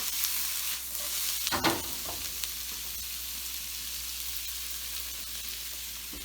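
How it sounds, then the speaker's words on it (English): Sous vide pork is stirred into fried rice in a hot pan, a steady sizzle and frying hiss with a brief scrape of stirring near the start, then continuous crackling. "as we stir our rice in, that'll start to all break down"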